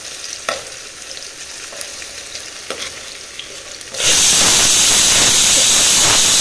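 Food shallow-fries in a nonstick pan over a low flame. Quiet background noise with faint clicks gives way to a loud, steady sizzle and hiss that starts abruptly and continues to the end.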